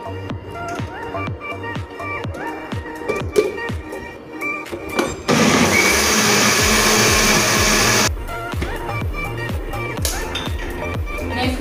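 A kitchen blender mixes kulfi mixture of malai and milk, roaring loudly in a sustained burst midway, with tapping, clattering and preparation noises before and after.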